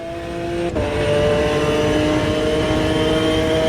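A 6-litre V12 GT1 race car engine in the AMS2 racing game holds a steady, loud high-revving drone with clear harmonic tones, a brief shift-like dip early on, then sustained power with no talk.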